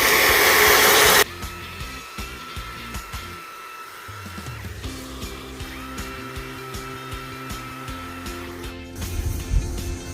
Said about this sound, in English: I did forget to turn on my shop vac, so let's do that first